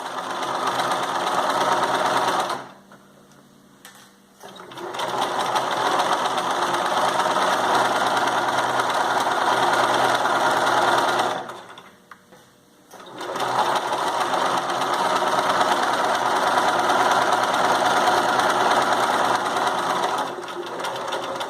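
A sewing machine runs in long, steady, whirring bursts while stitching the side and bottom seams of a fabric drawstring bag, pausing twice briefly, close and loud with no talking.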